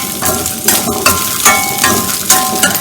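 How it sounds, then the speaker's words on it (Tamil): Onion and garlic sautéing in a pan for a Tamil onion-garlic chutney, with a steady close sizzle and periodic scraping bursts as a utensil stirs the pan, roughly every half second to second. "இது வதக்கு இன்னும் ஒரு 2 நிமிஷம் நல்லா வதங்கட்டுங்க"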